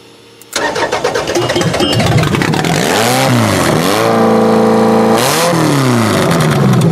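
Car engine that has sat unused for two years cranking and catching, then running with a rough idle and several rising and falling revs, loud and close throughout.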